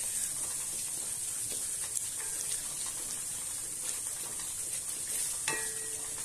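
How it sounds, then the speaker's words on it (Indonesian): Spices and curry leaves sauté in oil in a pan for a chicken curry made without coconut milk, giving a steady, close sizzle and hiss with occasional soft stirring scrapes and no talking. "Kita tumis sampai rempah ni masak ya."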